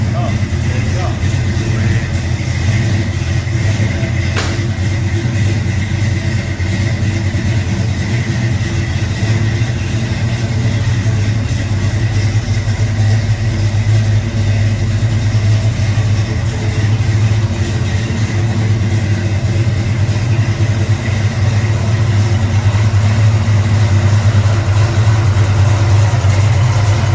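A 1955 Chevy under restoration idles after starting, its engine running as a steady, loud, low rumble that holds evenly for the full stretch with no clear revving.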